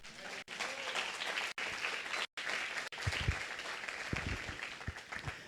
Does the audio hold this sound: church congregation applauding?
yes